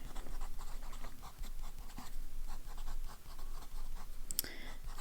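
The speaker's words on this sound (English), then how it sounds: "Now I'm going to write." A pen scratches across paper in short, faint strokes, a soft scribbling rhythm close to the mic with a brief louder knock near the end.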